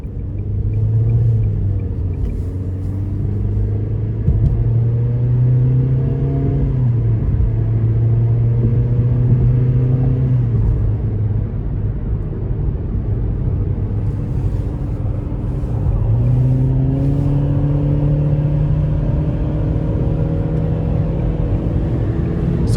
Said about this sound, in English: we're gonna give it a little pull in sport mode, getting on the interstate here